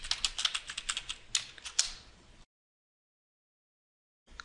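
Quick keystrokes clatter on a computer keyboard while entering a search in the Windows 7 Start menu, a close, brisk run of about two seconds followed by silence.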